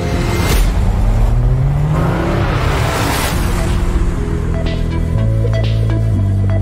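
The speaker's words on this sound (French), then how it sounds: "Are we in sport mode? Yeah. Yes, we are. Well, it sounds good as well, doesn't it? That's so good for an SUV." Alpine Rafale E-Tech hybrid SUV with a 300-horsepower engine, driving in sport mode with a loud, rising engine note that climbs through revs and gear changes, heard from inside the cabin.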